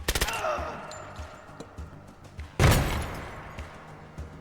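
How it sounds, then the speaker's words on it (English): In Door Kickers 2, a quick burst of gunfire opens the scene, followed midway by a single loud, booming frag grenade explosion, with sporadic clicks and shots afterward. "We'll go ahead and drop one more frag on it."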